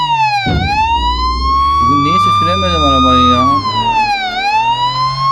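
A police car siren in the game Flashing Lights wails in long rising and falling sweeps over a low engine rumble, loud and continuous while someone talks.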